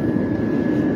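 Inside an old airplane in flight, a loud steady engine drone and cabin rumble filling the space, constant and unbroken.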